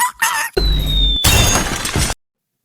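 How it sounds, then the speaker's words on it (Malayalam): A plane crashing into water in a video game, heard as a loud shattering burst and a steady roaring wash with a thin whistling tone, broken by a sudden cut into a second noisy crash before it ends abruptly. "അങ്ങനെ ഞാൻ പ്ലെയിൻ വെള്ളത്തിൽ ക്രാഷ് ചെയ്ത്."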